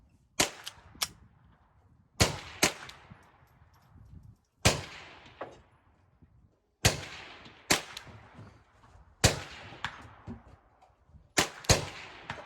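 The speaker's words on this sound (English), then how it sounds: "The recoil and trigger pull and the action while you're shooting the gun is just about as comfortable and similar" Several close, sharp pistol shots from a 1943 Mauser HSC firing Fiocchi .32 Auto rounds, spaced in pairs and triples with short pauses and a brief ringing decay after each report.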